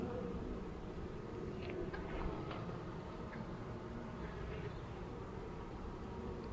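Low, continuous drone of many honey bees buzzing together in an open hive, steady and close, with faint clicks and rustles but no talking.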